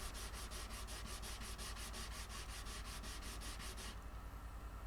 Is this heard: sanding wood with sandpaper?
yes